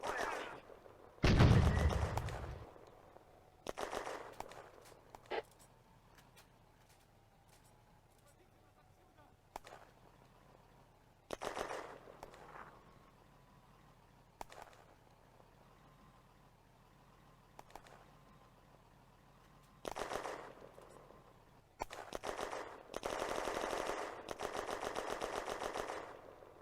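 Gunfire and machine-gun bursts in a war video game set on the Eastern Front, loud sharp reports and short rattling volleys separated by quiet gaps, ending in a sustained burst of fire.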